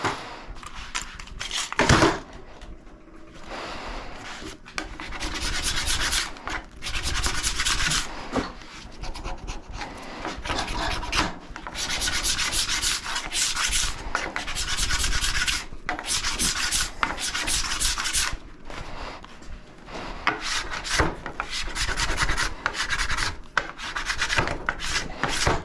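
A scraper repeatedly drawn along ski bases during a tune-up, loud rasping strokes in an irregular rhythm with brief pauses between passes, close by and without talk.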